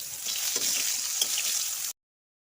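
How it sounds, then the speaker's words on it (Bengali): Steady, loud sizzling of eggplant frying in hot oil, with faint crackles, cutting off abruptly. "বেগুনগুলো ভাজা ভাজা হয়ে এসছে"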